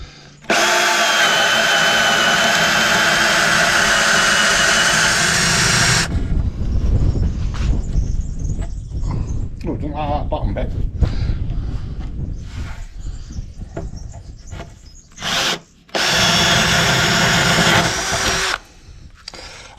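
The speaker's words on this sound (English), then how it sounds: "Use this flat spade bit." A flat spade bit on a power drill bores corner holes in a kitchen worktop to start jigsaw cuts, a loud steady whine for about six seconds, then quieter rough cutting bursts, with a second loud drilling run near the end.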